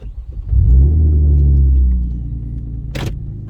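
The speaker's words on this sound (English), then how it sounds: "we are gonna go do our little test drive" A 2013 Hyundai Genesis Coupe 3.8 R-Spec pulls away on a test drive, its engine note swelling into a loud low rumble, then easing to a steady drone with a brief bright click near the end.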